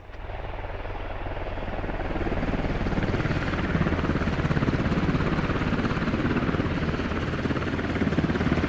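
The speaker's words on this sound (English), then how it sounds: "Helicopter moving in." A video game helicopter in a military squad shooter thunders steadily nearby, with a dense rotor roar and a fast thumping beat that build a little louder and hold. Nobody talks over it.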